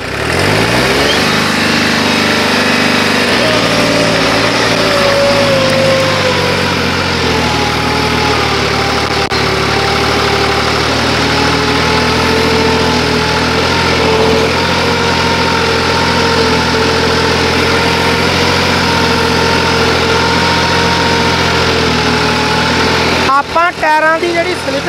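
A loud New Holland 3630 tractor engine with a turbo modification and a slipping clutch runs continuously, its pitch climbing as it revs, while a voice speaks over the rumble.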